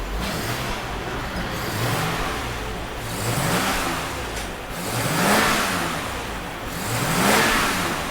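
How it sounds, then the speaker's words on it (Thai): A BMW 320i engine revs repeatedly with a deep, throaty aftermarket exhaust, rising and falling in several waves against a steady idle rumble. "ตอนนี้มาเร่งฟังเสียงกันอาเบิ้ลหน่อย"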